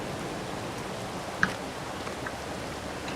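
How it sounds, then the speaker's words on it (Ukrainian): Steady, soft video game rain in Farming Simulator 22 hisses continuously, a faint even wash of falling drops with one small tap partway through. "І ще й дощ пішов."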